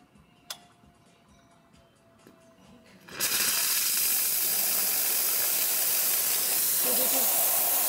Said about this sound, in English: Now let's just try out the steam wand.